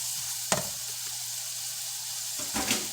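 Steak browning in a pan as fresh pepper goes in: a constant soft sizzle with two short scraping or stirring bursts, fairly faint, and no voices.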